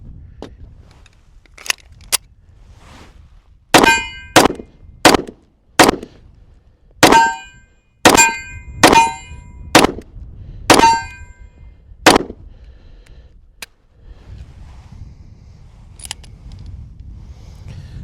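A SCCY DVG-1 9mm pistol fires a run of sharp, loud shots, about ten in an irregular string with short pauses between them, followed by quieter handling noise.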